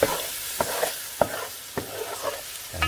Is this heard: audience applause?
no